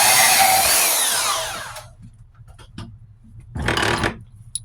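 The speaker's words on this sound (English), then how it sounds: "Grab our trusty bandsaw." A bandsaw makes a quick cut through a copper rod from a water heater thermostat, heard as a loud, close, high-pitched whine that fades out, followed by a short burst of rough rubbing noise.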